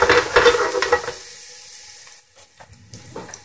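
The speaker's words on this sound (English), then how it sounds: "you can smell the aroma of garlic frying" Garlic frying in hot oil for sweet chili hot wings, a loud crackling sizzle at the start that fades to a quieter intermittent sputter.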